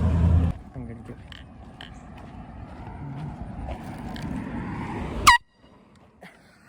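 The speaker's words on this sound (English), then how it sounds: "I had an air horn out" A loud air horn blast sounds near the end, preceded by outdoor background noise and people talking while walking around a neighborhood.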